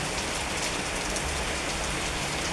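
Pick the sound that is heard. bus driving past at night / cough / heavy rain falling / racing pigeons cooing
heavy rain falling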